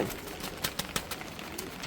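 Pigeon chicks, a brood of young birds, give soft repeated cheeping and shuffling sounds over a steady background hiss, close by and fairly quiet, with a few sharper bursts.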